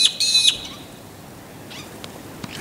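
Indian myna birds calling outdoors, a short bright burst of calls at the start followed by a few fainter, scattered chirps against quiet background noise.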